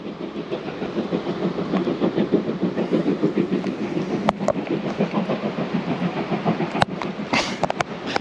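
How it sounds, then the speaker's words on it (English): A Strathspey Railway train passing near the River Spey, a loud, close rumble with rhythmic clickety-clack of wheels over rail joints and a few sharp clanks, sustained throughout. "Strathspey Railway."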